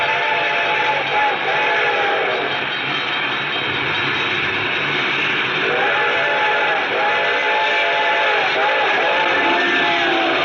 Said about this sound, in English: I could hear its bell ringing and the cry of its whistle